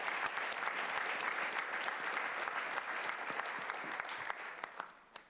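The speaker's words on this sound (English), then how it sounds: "give a warm applause" An audience at an awards ceremony claps steadily and warmly throughout, a dense wash of applause that tapers off slightly at the very end.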